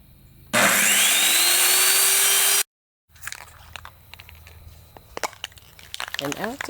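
A power tool cuts a clamped wooden workpiece for a small pet bed, a loud close whine lasting about two seconds before stopping abruptly, followed by quieter scraping, handling and clatter.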